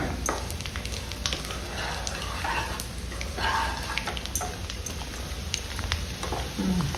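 Tempering spices crackling and sizzling in hot oil for a carrot coconut chutney, with steady frying hiss and scattered pops and spits.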